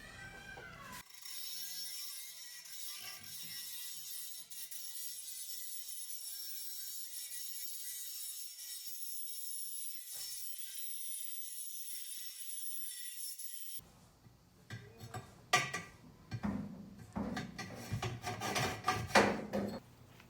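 Burrs filed off the metal pipe of a radiant tube garage heater: after a long stretch of steady hum, close rough scraping strokes start up, loud and irregular, continuing to the end.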